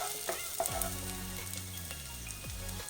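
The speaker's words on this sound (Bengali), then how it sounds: "পেঁয়াজ আর কাঁচা লঙ্কা একটু ভেজে নিলাম" Onions and green chillies frying in a pan make a close, steady sizzle, with spoon strokes and scrapes stirring through it and no voices.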